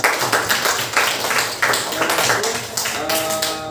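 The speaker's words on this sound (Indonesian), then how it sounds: "tepuk tangan untuk kita semua" A classroom group claps together after student presentations in an Islamic studies lesson, a dense burst of hand claps lasting a few seconds, fairly loud and steady with a voice rising near the end.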